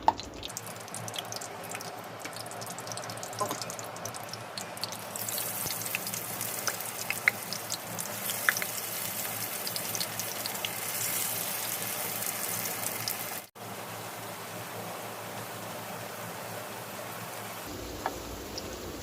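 Onion pakoras coated in gandha bhadal leaf paste fry in hot oil with a quiet, steady crackling sizzle and scattered pops, heard alone without talk and cutting out briefly near the middle.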